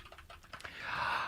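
A short burst of rapid clicky keystrokes on a mechanical keyboard, close and moderately loud, fades into a soft breathy hiss.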